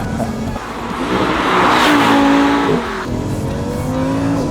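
A budget Huracan-like supercar driving and accelerating, the engine note climbing loudly, then dropping back as it shifts, with a faint tyre squeal.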